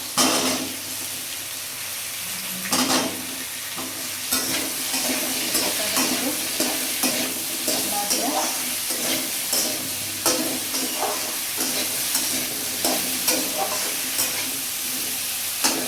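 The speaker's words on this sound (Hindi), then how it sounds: "उसके बाद डालेंगे हम पपीता।" Raw papaya cooks in a salted pan for sabzi, giving a continuous close sizzle with repeated scraping strokes from a spoon stirring it.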